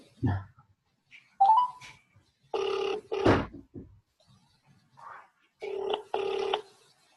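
An outgoing Zoom call ringing, with repeated electronic ring tones in paired bursts separated by short gaps, fairly clear, with a few faint incidental noises between rings.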